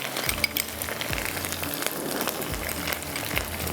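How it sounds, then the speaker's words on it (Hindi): Chicken methi kabab mixture fries with onion in a pan, giving a continuous crackling sizzle at moderate volume with a few soft stirring knocks; no voices. "इस तरह से आपने इसको थोड़ा सा प्याज के साथ फ्राई करना है।"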